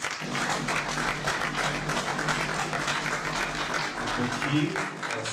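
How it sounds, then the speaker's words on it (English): An audience at a peace advocacy gathering in Nigeria applauds a police commissioner with steady, dense clapping that runs throughout, while voices and crowd chatter mix in underneath. "can we give the CP of Imo State a round of applause?"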